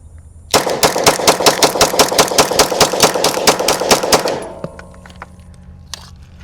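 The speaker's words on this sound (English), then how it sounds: "Let's go ahead and dump it and see if it runs." Rapid fire from a PSA Compact Dagger pistol, a Glock-style compact handgun, emptying the magazine in a loud, close, evenly spaced string of about twenty shots, followed by fading ringing and a faint metallic clink.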